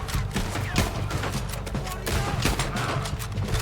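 Gunfire in Red Dead Redemption 2, with a rapid string of sharp, close shots and dense crackling bursts over a busy game backdrop for a few seconds.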